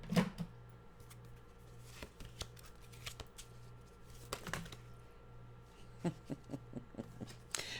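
A deck of cards is shuffled in quiet, close riffling bursts with soft flicks and taps between them, faint throughout.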